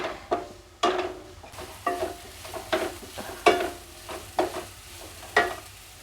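A spoon stirs masala for white pea kachori filling in a pan, giving a quiet series of regular scraping strokes, roughly one every second, over a faint low sizzle.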